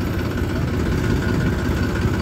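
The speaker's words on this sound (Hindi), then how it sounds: "मोटरसाइकिल से ही सारा काम कर रहा।" A motorcycle engine runs steadily while a sugarcane trolley is loaded, a loud, even mechanical drone with vibration and no breaks.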